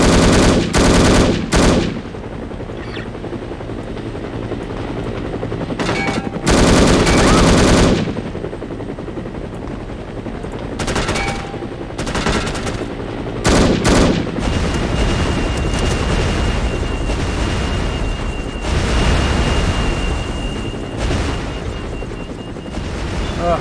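Sustained automatic gunfire and explosive booms from the spy shooter game No One Lives Forever, loud bursts of rapid shots with heavy blasts breaking up steadier stretches of battle noise, no speech.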